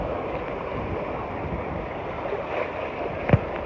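Ocean waves at a beach, a steady broadband wash of surf and wind noise filling the whole stretch, with one brief knock near the end.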